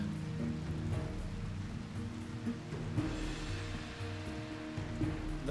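Rain in the video game Rimworld, a soft steady patter of falling water that stays even and fairly faint throughout, with a low droning musical tone underneath and no talk.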